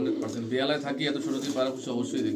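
Pigeons of a black breed kept for sale in Kolkata coo softly and steadily, a low continuous burbling close by, with a voice talking over them throughout.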